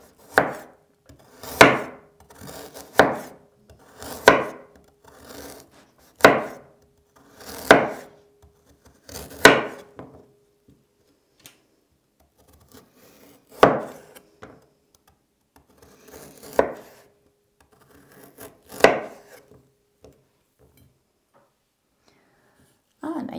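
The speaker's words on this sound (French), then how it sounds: "mes voisins du dessous et du dessus m'entendent couper les carottes" A knife chops carrots on a cutting board in an apartment kitchen: a run of loud, sharp thuds at an uneven, quick pace, then sparser strikes spaced apart, close and dry.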